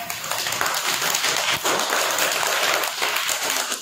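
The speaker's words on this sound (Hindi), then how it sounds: "ताली बजाओ" Schoolchildren in a classroom clap for a classmate, a burst of many small hands applauding together, loud and continuous for a few seconds with a brief dip midway.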